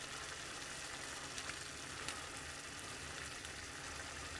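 Tomato paste for pasta sauce sizzles steadily in a hot pan, a soft, even, continuous crackle without pauses.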